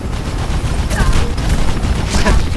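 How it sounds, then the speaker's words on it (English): Gunfire in the video game Mirror's Edge, a continuous clatter of shots and impacts with sharper bursts standing out, fairly loud and busy, with a player's voice over the top. "Stop shooting."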